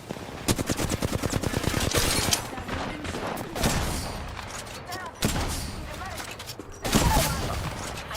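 Rapid automatic gunfire in a video game, a long burst of close shots followed by a few shorter bursts and heavy impacts, with game sounds and voices underneath.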